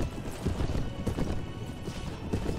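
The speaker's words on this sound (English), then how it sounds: "Maybe this would be a better horse. It has a little bit more speed." Horse hooves clip-clop rapidly and continuously in the Mount & Blade: Warband mod A Clash of Kings, a dense galloping rhythm at steady loudness with no talk.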